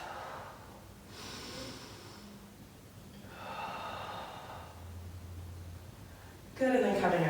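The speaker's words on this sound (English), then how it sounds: "Taking a breath." Deep breaths taken during a yoga stretch come in soft, drawn-out waves, with a louder, sharper inhale at the end.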